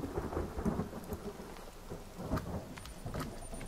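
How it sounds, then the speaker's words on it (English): Steady rain patters throughout while low rumbling thunder rolls beneath it, swelling and fading in waves, with no voices, in the video game The Forest. "And it's also raining."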